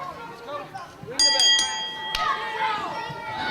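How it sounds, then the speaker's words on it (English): A ring bell struck several times to open a wrestling match, bright metallic dings ringing out over crowd noise and chatter from the arena. "The bell sounds"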